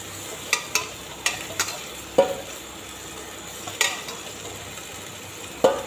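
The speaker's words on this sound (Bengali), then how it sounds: "মুগ ডাল দিয়ে নিয়েছি, এবার পেঁয়াজ কুচির মধ্যে ছেড়ে দিচ্ছি" Moong dal tipped into chopped onions in a hot pan sizzles steadily, with a few sharp clinks of a spoon stirring against the metal at irregular intervals.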